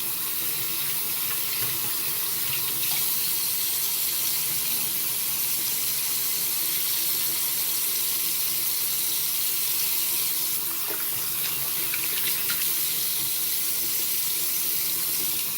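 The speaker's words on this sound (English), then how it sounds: "I'm gonna rinse off real quick." Tap water runs steadily into a sink for a quick rinse mid-shave, a continuous even splashing hiss that stays close and unbroken with no talk over it.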